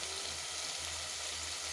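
Ground onions and tomatoes fry in hot oil for a Tamil fish curry, giving off a steady, close sizzle with a low bubbling hiss throughout and no talking.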